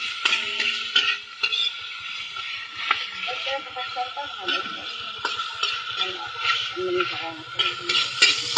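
Bottle gourd (upo) sautés in oil in a pan, sizzling steadily under repeated stirring clatter while people talk over it.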